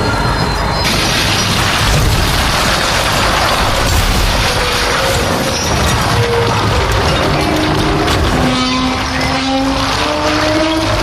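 A horror-story explosion effect as a fireball-like train enters a station platform: a loud, sustained roaring blast with crackling debris and rumbling that fills the whole span without pause.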